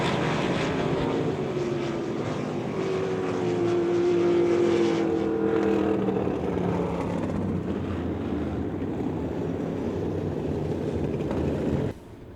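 Race cars roar around a dirt oval during a heat race at Devil's Bowl Speedway, a loud continuous engine drone with a rising pass-by whine in the middle, cutting off abruptly near the end.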